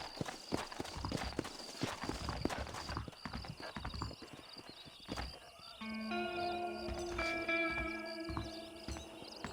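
Horse hooves clip-clop in the Western video game Red Dead Redemption, a quick uneven run of close hoofbeats over a dirt trail that eases off, followed by a sustained musical tone and a low ambient bed.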